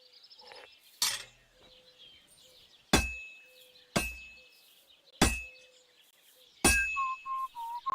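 Blacksmith's hammer striking hot metal on an anvil in Kingdom Come Deliverance 2, five sharp ringing clangs spaced about a second apart, close and loud, with faint bird chirps and quiet background ambience between strikes.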